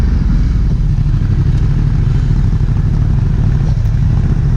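A Ducati XDiavel S cruiser motorcycle on a test ride, its engine a loud, steady low rumble close to the rider, with faint wind and road clatter running throughout.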